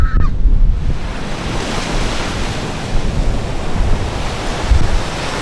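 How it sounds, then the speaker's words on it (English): Caribbean Ocean surf on the coast of Puerto Rico, a steady broadband wash of waves rolling in close and loud, with a few stronger surges, alone without talk. "The first thing we had to see was the beautiful Caribbean Ocean."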